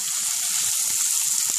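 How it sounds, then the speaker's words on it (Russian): Butter mushrooms fry with onions in a pan, giving a steady, dense sizzle with small crackles and occasional soft stirring, close and alone. "Вот так вот можно очень быстро приготовить грибы с жареным луком."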